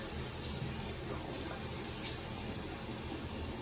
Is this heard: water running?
yes